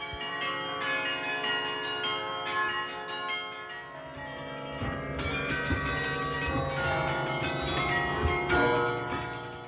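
Carillon bells of the Belfort tower in Ghent, Belgium, played from a keyboard, ring out in a dense, continuous peal of many bright tones that overlap and shift in melody throughout, fairly loud and with no voices.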